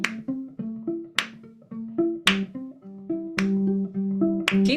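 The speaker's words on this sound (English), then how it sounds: "Keep clapping, keep going." Sharp hand claps keep a steady rhythm alongside a plucked violin line, with a crisp snap on every beat and no one speaking.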